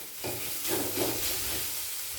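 Salt and turmeric are stirred into hot oil for a cabbage and masoor dal dish, a soft continuous sizzle that swells briefly as the spoon moves through the pan.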